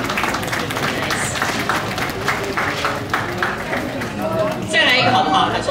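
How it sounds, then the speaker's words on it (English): An audience at the Corning Museum of Glass claps and cheers in a sustained burst, with a voice talking over the applause and a louder swell near the end. "Let's give him a big round of applause."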